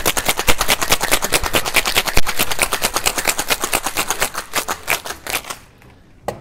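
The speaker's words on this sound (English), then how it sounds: "Add some ice to the shaker. Give it a really good shake." Ice rattling hard inside a cocktail shaker in a fast, steady rhythm of sharp knocks, shaken vigorously for several seconds before slowing and stopping, close and loud with no talk.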